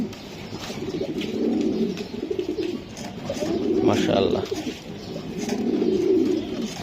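Young racing pigeons coo nearby, a male's repeated throaty calls coming in rolling bursts, while someone speaks briefly over them.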